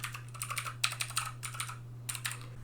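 Quick, light typing on a BlitzWolf BW-KB1 mechanical keyboard with blue switches, a flurry of crisp clicky keystrokes in short bursts with brief pauses, quiet and alone over a low steady hum.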